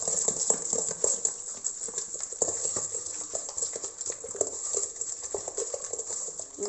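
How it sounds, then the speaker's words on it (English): Pineapple upside-down cake batter being mixed by hand in a bowl, with continuous close tapping and scraping of the utensil in a quick, uneven rhythm, at moderate level. "Then mix that all in."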